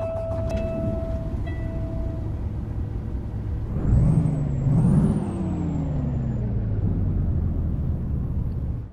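Kenworth truck engine with the Packard sound mod in American Truck Simulator drones steadily throughout, with a loud air brake hiss and squeal rising near the middle before the engine rumble continues.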